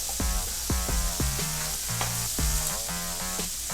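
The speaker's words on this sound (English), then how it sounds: "I'm just gonna start flipping these shrimps." Shrimp sizzle steadily in a frying pan during cooking for chicken shrimp fried rice, a close continuous hiss punctuated by scraping clinks as pieces are flipped, with no talking.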